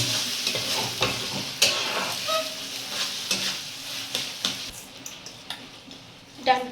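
Washed rice and spices frying in oil in a pot for khichuri, with a spoon stirring: a steady sizzle under regular scraping and tapping strokes, up close with no talking.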